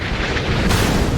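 Missile striking a ship and exploding in the naval game Sea Power, a loud close blast that swells sharply partway through and rumbles on to the end.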